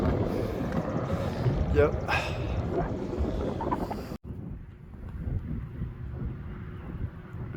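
Strong outdoor wind buffets the microphone in a loud, rumbling roar that suddenly drops to a quieter gusting hiss, with a brief spoken word in the middle.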